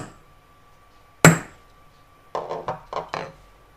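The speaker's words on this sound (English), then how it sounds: "just give them a blow or a couple of blows with the hammer" A hammer strikes a centre punch against a metal sheet for a patchwork pendant, delivering one sharp, loud ringing blow followed by a quick run of four lighter taps, close and with no talk.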